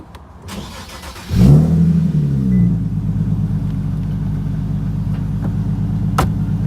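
A Nissan 370Z engine cranks and catches loudly up close after its throttle body was cleaned, flaring briefly before settling into a steady, low rumbling idle.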